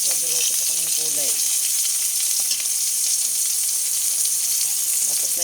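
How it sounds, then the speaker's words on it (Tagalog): Eggplant and vegetables sizzle and fry steadily in a hot pan, a loud continuous hiss with brief stirring, while someone talks over the cooking. "Nagluluto ako ng gulay."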